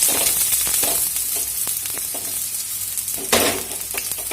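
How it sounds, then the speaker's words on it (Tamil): Mustard seeds and dal for tempering sizzle and crackle steadily in hot oil in a pan, with a bright hiss, sharp pops and occasional stirring scrapes, close and with no talking. "ஸோ கடுகு பொரிஞ்சதுக்கப்புறம் தாளிக்கிற பருப்பு போட்டிருக்கோம்"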